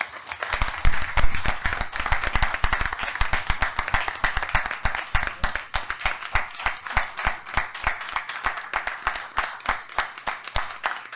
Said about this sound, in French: Alors j'aimerais ça qu'on les applaudisse.